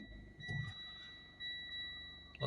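Warning beeps from the dashboard of a Mitsubishi ASX 2.3 diesel just after starting, with an engine management fault showing; two steady high electronic tones sound continuously over a quiet cabin and low engine hum.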